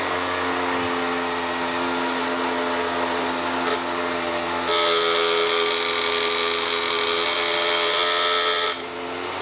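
A steady mechanical buzzing whine from the noisemaker mechanism of a vintage Marx Big Boss toy, a tab pressing against a small hammer, runs continuously, close and loud, shifting to a brighter, harsher tone partway through before easing back.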